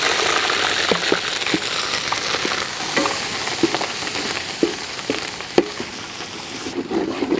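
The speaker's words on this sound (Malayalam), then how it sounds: "നമ്മുടെ ഇഞ്ചിയും വെളുത്തുള്ളിയും ചതച്ചതൊക്കെ ഒന്ന് മൂത്ത് വരട്ടെ" Crushed ginger and garlic sizzle in hot coconut oil in a pan where mustard seeds were popped first, a steady close frying hiss dotted with irregular sharp pops and crackles.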